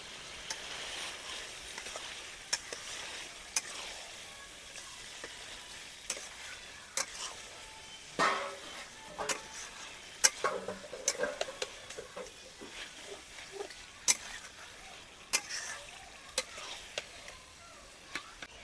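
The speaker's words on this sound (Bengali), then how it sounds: "হোয়াইট মাটন কারিটা ভালো করে কুড়ি মিনিট এরকমভাবে নেড়ে নিচ্ছি" White mutton curry with yogurt cooking in a pot with no water added, giving a soft sizzle under frequent scraping and clinking stirs of a spoon against the pot, close up, with scattered quieter voices.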